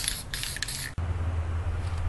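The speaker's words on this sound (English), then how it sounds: "Putting a little more spray paint on to see my low and high spots." A spray paint can hisses in a close, steady burst for about a second, applied to a resin or fiberglass statue being repaired, then cuts off, leaving a low hum behind.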